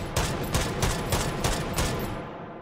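Lahti M26 machine gun in the H3VR video game firing fully automatic from an open bolt: a steady burst of rapid, loud shots at an even rhythm, ending in a short fading tail.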